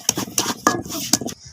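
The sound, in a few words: finely chopping onions for raw mango chutney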